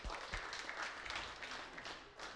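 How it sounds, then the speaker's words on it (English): Audience applause at a stand-up comedy show, a steady wash of clapping from a crowd that holds at an even level before tapering slightly near the end. "Round of applause"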